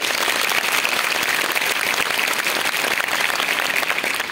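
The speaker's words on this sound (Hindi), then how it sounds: "इसीलिए जोरदार ताली" Loud, dense applause from a school gathering of children and guests at a National Unity Day commemoration for Sardar Vallabhbhai Patel's birthday, steady and sustained throughout without a break.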